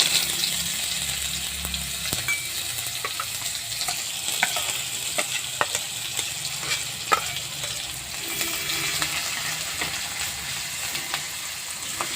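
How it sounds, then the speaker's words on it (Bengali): Grated onion, ginger and garlic fry in a pan with whole cumin and dried red chillies, giving a steady close sizzle broken by scattered clinks and scrapes of stirring. "এবার আমি পেঁয়াজ আদা রসুন গ্রেট করা দিয়ে দেবো।"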